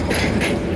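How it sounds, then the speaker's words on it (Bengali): A train approaching at speed near a rural village market, a brief, loud rumbling roar with rattling wheel noise. "একদম দ্রুত গতিতে ট্রেন আসছে"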